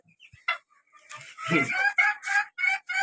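Chickens in an enclosed bird house cluck in a close, busy run of calls, rising into a loud, repeated burst of clucking and crowing notes after a few quieter sounds at the start.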